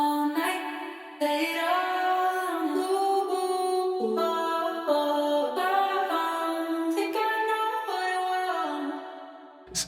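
Processed vocal sample from the Arcade sound library by Output, sustained harmonic tones shifting pitch in phrases, loud and continuous with no talk, ending abruptly.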